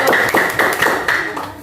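Short burst of hand clapping from a classroom group applauding a student team after its series-circuit presentation, several uneven sharp claps close by over about a second and a half.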